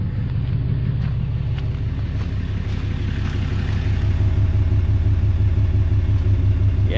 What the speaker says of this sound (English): you can hear it coming out of the exhaust more